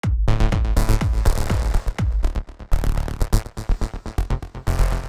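A Spire synthesizer patch with real-time controller and mod wheel modulation plays punchy, rhythmic bass-heavy notes, loud and close, changing in timbre as the controllers sweep, with no talking.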